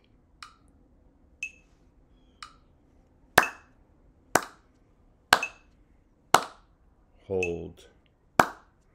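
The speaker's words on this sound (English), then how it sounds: "I'm going to this time withhold the talking and just do the clapping along with the metronome" Crisp hand claps land at a steady, even beat alongside soft metronome clicks, each clap sharp and close in a quiet room, with a brief spoken word cutting in near the end.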